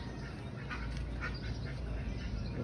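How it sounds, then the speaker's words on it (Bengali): Ducks quacking at a farmhouse in Saudi Arabia, several soft calls scattered over steady low background noise with no talk. "এখানে হাঁসগুলি আছে"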